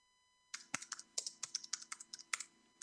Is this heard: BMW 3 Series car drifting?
no